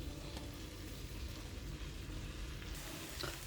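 Banana flower fries with ginger paste in a pan for a vegetarian curry, producing a continuous, moderately quiet sizzling hiss with a light scrape near the end and no voices.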